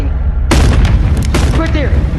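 A gunshot and explosion in the VR game Animal Company: a loud booming blast hits after a quiet start, with a second burst close behind and some talk over it.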